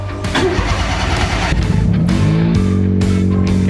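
A nearby Perodua Kancil engine with a newly installed boost controller idles roughly, then revs up with rising pitch, settling into a higher steady drone; no voices.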